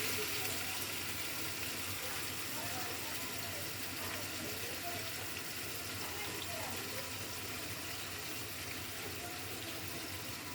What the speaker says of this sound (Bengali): ওটা একটু জল দিয়ে দেবো মিক্সিটাও পরিষ্কার হয়ে যাবে জল দিয়ে দিচ্ছি